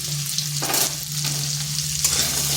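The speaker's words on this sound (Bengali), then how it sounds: "আলুটাকে ঢাকা দিয়ে কিছুক্ষণ ভেজে নেব" Cut potatoes with salt and turmeric fry in hot oil in a pan, a steady close sizzle with periodic louder bursts as they are stirred, no talking.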